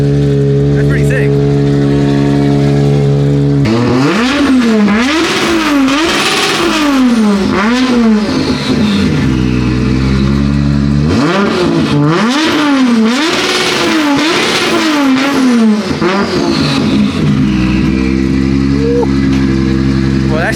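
A 1000-horsepower Corvette engine revs hard again and again, its smooth, buzzy wail climbing and falling much like a rotary, loud and close. Voices talk beneath it.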